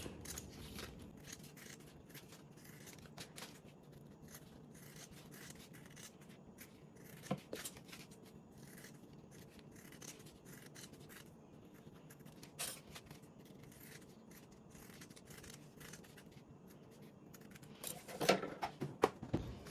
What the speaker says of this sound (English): We're going to go ahead and trim up the seam allowance and our corners.